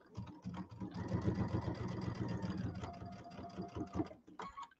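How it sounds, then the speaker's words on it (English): A sewing machine stitches a pillow seam for a winter-themed settee pillow, its motor whirring in a steady rapid mechanical run close by for a few seconds, slowing and stopping at the end. "I'm sewing down between the two little lines."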